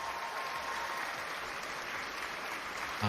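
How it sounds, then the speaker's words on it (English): Quiet applause during a magic show stream: soft, even clapping heard faintly and at a distance, steady for about three seconds before a brief low thump at the end. "Thanks for the applause."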